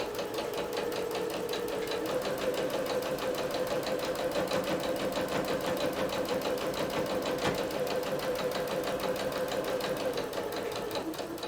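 Sewing machine running steadily while back stitching a bodice seam with a 5/8 inch seam allowance, a continuous close mechanical whir with rapid needle rhythm and no pauses, heard alone.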